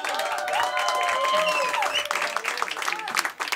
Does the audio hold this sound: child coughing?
no